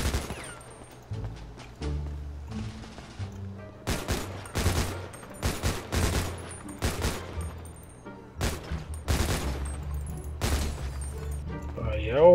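Gunfire in a GTA 5 roleplay bank robbery at a beach, with a string of sharp loud shots and bursts in uneven clusters over a low rumbling background, joined near the end by other game sounds.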